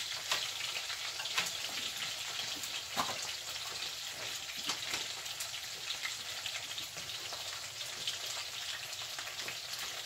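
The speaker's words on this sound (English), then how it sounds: "Don't take long to cook in this iron skillet, y'all." Salmon patties frying in an iron skillet, a continuous moderate sizzle with scattered crackles and pops over the whole stretch, no talking.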